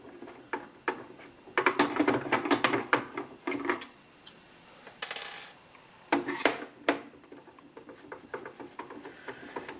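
A magnetic screwdriver backs out the main screws on the rear of an original Nintendo NES console, giving bursts of close, rattly metallic scraping and clicks broken by short pauses.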